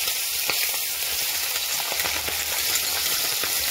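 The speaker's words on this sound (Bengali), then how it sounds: "এবার কড়াইতে দিয়ে দেবো নুন হলুদ মিশিয়ে রাখা মাছ।" Fish coated in salt and turmeric frying in a hot wok, giving a dense, steady, loud hiss of oil with faint crackles throughout.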